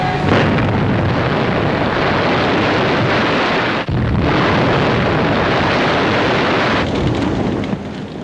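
Commandos blowing up factories and fish oil tanks in a harbour during a wartime raid, a loud, sustained rumbling roar of blasts with one brief dip, dense and continuous throughout.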